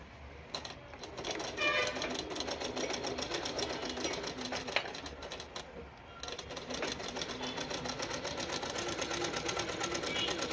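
Sewing machine driven by a foot pedal, stitching cloth at normal stitch length, a steady whirring rattle of rapid needle strokes running continuously, close and fairly loud, with a brief pause partway through.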